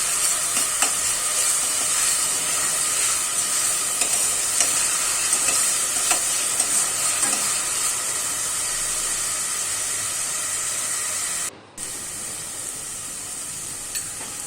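Onion and garlic paste sizzles and hisses steadily in a hot pan while a spoon stirs it, a continuous bright frying crackle, close and loud, with a brief dropout near the end.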